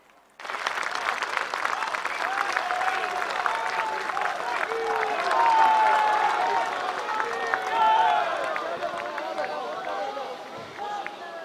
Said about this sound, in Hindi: उनका जोरदार तालियों से स्वागत किया जाए।